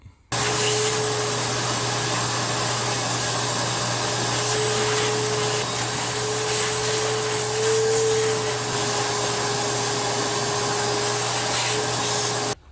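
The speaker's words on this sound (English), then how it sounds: "I'm going to get my shop vac out and vacuum all that up." A shop vac runs steadily and loud for about twelve seconds, a constant motor whine with a low hum and airflow roar, vacuuming up a mess around a Dodge W300 Club Cab truck; no one speaks.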